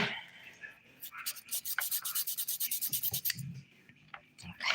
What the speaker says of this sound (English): I'm just smoothing underneath my nails too.